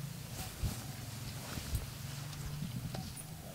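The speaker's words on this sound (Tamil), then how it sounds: "ஒரு மாடு ஓடுது" A cow runs past with faint, irregular hoof thuds on the ground, distant and quiet against a soft outdoor background.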